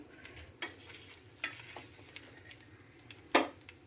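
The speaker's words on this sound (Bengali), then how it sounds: "একটু করে আমি ওপর থেকে খালি একটু করে তেল দিয়ে ভেজে নিচ্ছি" Rice dosa frying in oil on a pan, a soft sizzle with scattered stirring and scraping taps and one sharp louder clatter near the end, close and fairly quiet, no talking.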